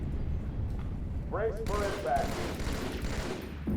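Battle rifle gunfire in Halo 2, short bursts of shots in the middle of the clip under faint game ambience.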